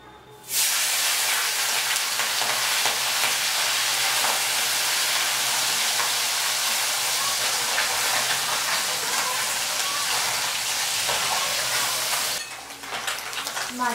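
Small puti fish fry in a hot karai of mustard oil, giving a loud, steady broadband sizzle and hiss that runs almost unbroken and drops away near the end.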